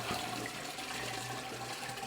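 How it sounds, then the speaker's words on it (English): Water from a tap pours steadily into a large flower vase as it fills, a continuous splashing rush at moderate loudness with no pauses. "this is quite a big vase, so I'm going to fill this right up"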